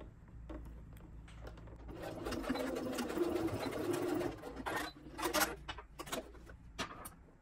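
A sewing machine stitches across elastic on a child's bubble frock sleeve, starting with soft clicks, then a sustained whirring run, followed by short bursts and handling noises, close and fairly quiet.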